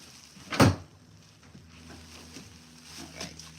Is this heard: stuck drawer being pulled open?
yes